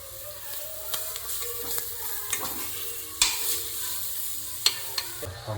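Spices for veg pulao fry in oil in a pan: a steady close sizzle runs throughout, punctuated by several sharp spoon scrapes and taps as the mixture is stirred.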